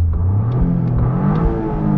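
A Toyota GR Corolla's natural, unenhanced engine note while driving, a loud steady mid-pitched drone with slight rises in revs, heard from inside the cabin with no talking.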